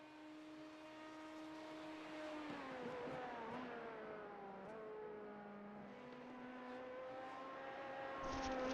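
A race car engine rises and falls in pitch as it brakes and accelerates through a final corner into the pits, heard at a moderate distance with a steady rising tone, no voices.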